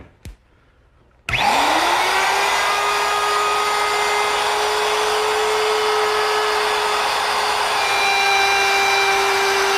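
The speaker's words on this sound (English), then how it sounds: "you want to move the router with the rotation of the bit" A router starts after a brief quiet moment and spins up to a loud, steady high-pitched whine while trimming thin wood veneer, running close and constant with no voices.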